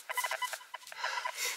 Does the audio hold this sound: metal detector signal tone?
yes